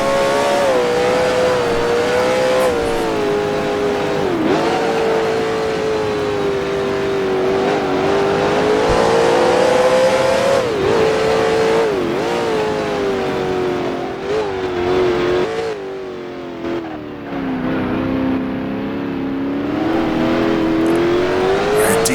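A 1966 Can-Am race car in Grand Prix Legends screams continuously at high revs around the Bridgehampton circuit, its pitch rising and dipping through gear changes and corners, loud and close throughout with no speech.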